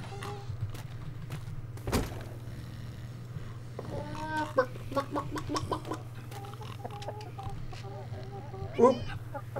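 Chickens cluck in the pirate survival game ATLAS, a series of short repeated clucks in bursts against a steady low hum, with a sharp thump early on and a louder flurry of calls near the end.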